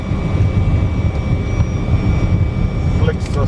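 Iran Air Fokker F100 jet engines roar steadily during takeoff from Tehran Mehrabad Airport, a loud, constant cockpit drone with a faint tonal whine, as crew voices speak briefly near the end.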